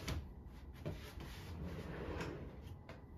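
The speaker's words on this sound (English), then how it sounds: "I also happen to have some fancy drawers" Large clothing drawers in a Brooklyn apartment bedroom are slid open or shut, giving soft wooden rubs and a few knocks that come through faintly against quiet room noise.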